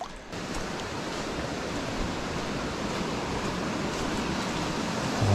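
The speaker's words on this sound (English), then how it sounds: "Oh, I hear the waterfalls." Waterfalls rush steadily with a dense, broadband roar that fills the whole stretch at an even loudness, close and continuous with no other distinct sounds.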